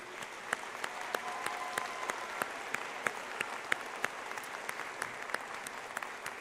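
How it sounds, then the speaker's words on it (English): Applause from the audience at a university commencement ceremony holds at a steady, moderate level, with distinct sharp claps standing out from the dense patter of the crowd. "How about a round of applause for everyone?"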